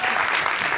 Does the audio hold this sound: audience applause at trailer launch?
yes